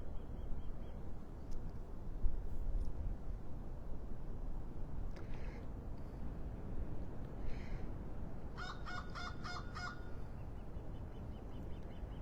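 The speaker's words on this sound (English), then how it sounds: "The birds in the background." Early-morning birds at Clam Pass in North Naples, Florida, faint distant calls over steady low ambient rumble, then a short burst of rapid repeated honking notes near the end.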